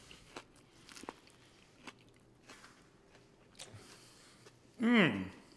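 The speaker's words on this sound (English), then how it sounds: "I'm gonna eat this salad" Someone bites and chews a crunchy winter salad close to the mic, with scattered soft crunches and one louder burst near the end, all at low volume against a quiet room.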